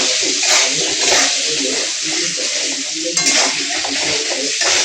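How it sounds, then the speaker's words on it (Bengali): Potatoes fry in oil seasoned with turmeric and salt, a dense, steady sizzle with stirring scrapes running throughout, loud and close with no talk. "তাহলে ভালো করে ভাজি নিই।"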